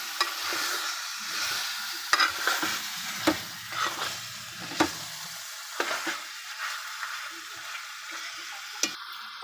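Marinated fish pieces with onions frying in a pan, a steady soft sizzle broken by scraping stirs and small clinks of a utensil, close by with no talk.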